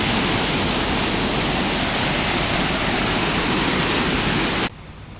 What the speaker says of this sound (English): You can see how fast that water's coming out there